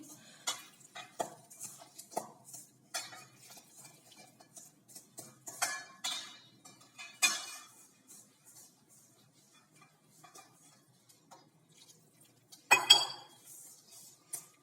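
A spoon scrapes and clinks against a bowl while milk is mixed into sugar and cocoa powder for a brown biscuit cake, in a run of irregular stirring taps with a louder clatter near the end and no talk.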